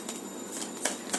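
Tarot cards are shuffled before a single card is drawn, a brief soft rustle with a few light flicks near the end, close and quiet.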